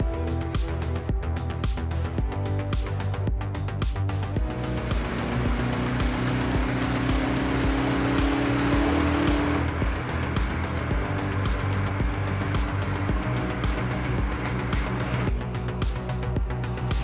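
Škoda Octavia RS with 261 HP lapping Buddh International Circuit, its engine a loud, sustained roar that climbs steadily in pitch under acceleration before settling back.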